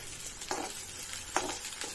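Marinated mutton hits a hot pan, releasing a steady, moderate sizzle broken by a couple of short scraping stirs. No one speaks.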